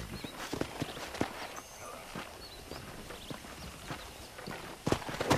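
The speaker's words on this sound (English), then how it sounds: "let's see if you can still ride a horse" Horse hooves clip-clop in steady rhythm as a horse is ridden across a ranch in the Red Dead Redemption video game, with a few louder strikes near the end.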